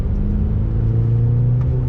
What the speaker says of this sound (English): On the brakes, downshift in the 3rd, around this bend.